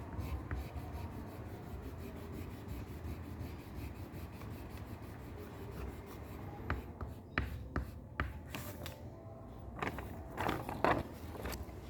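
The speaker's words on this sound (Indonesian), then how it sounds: "Lalu kita akan menggoreskan di kertas." A roasted candlenut seed scraped across paper, giving a faint, continuous dry scratching and rubbing, then a few sharper scraping strokes toward the end, with no talking.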